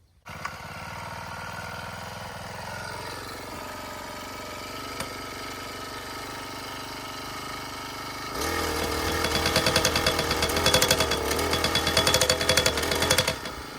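An electric post driver hammers a fence post: a steady motor drone at first, then from about eight seconds a loud, dense rapid pounding with harsh metallic rattle, continuing to the end with no talk.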